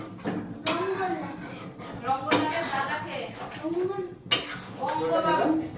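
A spoon stirs curry with added water in a cooking pot, knocking against the metal in three sharp clanks spaced a couple of seconds apart, with a voice talking underneath.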